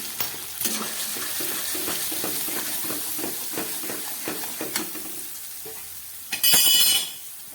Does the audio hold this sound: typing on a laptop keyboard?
no